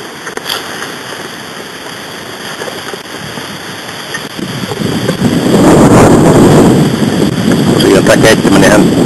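Strong north wind gusts across an open-air campfire where crayfish are being cooked, a steady roaring buffet on the microphone that swells louder and rougher in the second half.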